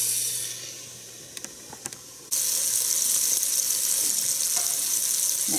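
Food dropped into a pan on medium-high heat, a few light clinks followed by a sudden loud, steady sizzle that continues close up without any talking.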